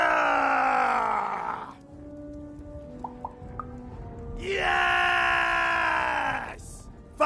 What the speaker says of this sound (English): Can you scream hard enough to make strangers die?